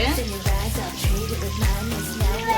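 Onions sautéing in a pan for a home-style chicken gravy, a soft steady sizzle broken by a few short stirring scrapes, close up.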